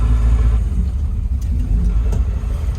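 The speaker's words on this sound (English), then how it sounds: "Since they added a nice LS Corvette motor to it" A 1955 Chevrolet 3100 truck with a swapped-in LS Corvette V8 idles, giving a loud, steady, deep engine rumble close by with no talk.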